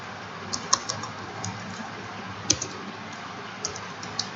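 Typing on a computer keyboard while writing Python code: light, sparse key clicks and a few sharper taps, close and quiet, with no voice.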